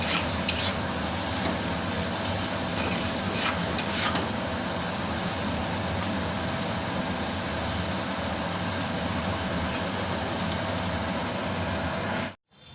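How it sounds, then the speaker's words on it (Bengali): Cumin paste, Kashmiri chili powder and chili paste fry in a pan for a Bengali fish curry, giving a steady, close, dense sizzle that runs unbroken, with no talking, until it cuts off at the very end. "এখানে মশলাটাকে একটু কষিয়ে নেব।"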